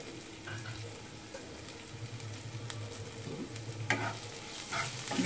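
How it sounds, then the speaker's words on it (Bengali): Onions sizzling and frying in a pan, with a utensil stirring and scraping through them in occasional clinks, a steady close frying hiss throughout. "পেঁয়াজটা ভাজা ভাজা হয়ে গেছে"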